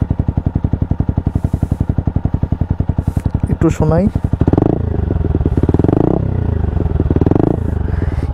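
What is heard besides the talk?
TVS Apache RTR 160 4V motorcycle loud exhaust at idle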